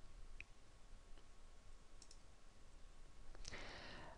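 A few faint, isolated clicks from a computer mouse being right-clicked in the Livescribe desktop software, with a slightly louder click near the end against quiet room tone.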